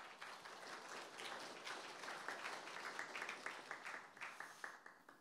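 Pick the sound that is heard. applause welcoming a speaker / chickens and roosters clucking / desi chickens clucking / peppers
applause welcoming a speaker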